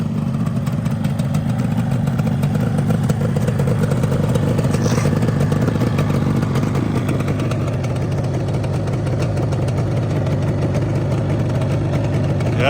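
A 1981 Yamaha RD350LC motorcycle with a rebuilt two-stroke engine runs steadily up close, its loud, raspy, slightly clattering drone holding for nearly thirteen seconds without letup.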